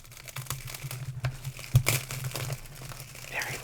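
Plastic wrap and packaging around Diamine ink bottles crinkle and tear up close in a quiet room, with irregular crackles and one sharper rip partway through.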